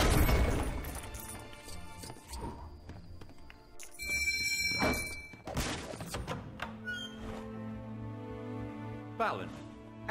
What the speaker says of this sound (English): I'm just gonna destroy my own house.